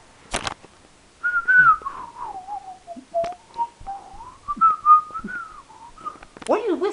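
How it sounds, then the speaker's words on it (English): A person whistles a tune close by: a wavering solo melody that slides and bends in pitch, broken by a couple of sharp clicks and short pauses. "What are you whistling?"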